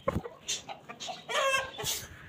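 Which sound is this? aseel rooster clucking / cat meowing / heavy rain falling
aseel rooster clucking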